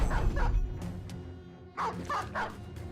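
A dog attacking in a video game, giving several short, close barks and yelps in quick bursts with brief gaps between them, against a low game background.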